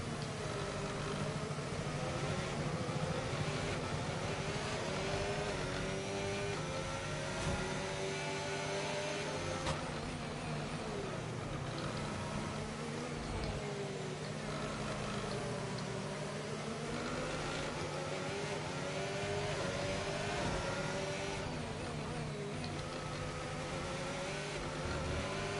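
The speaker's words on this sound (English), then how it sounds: "This is why the engine sounds really rough compared to normal." Rough-running car engine in a racing video game, a steady droning hum with wavering pitch that rises and falls over half a minute, continuous and fairly loud with no talk.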